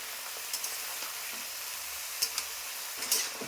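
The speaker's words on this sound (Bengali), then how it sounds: "কাঁঠালগুলো ছেড়ে দিচ্ছে, ভালো মতো করে ভাজতে হবে" Jackfruit pieces frying in oil in a pan for a jackfruit and prawn dish, a steady soft sizzle with a few brief crackles and stirring clicks scattered through it, faint and without voices.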